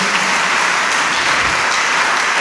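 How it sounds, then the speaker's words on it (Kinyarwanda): Sustained, dense applause from a congregation clapping for God during a church service, loud and steady throughout with no voices standing out. "reka dukomere Imana amashyi cyane"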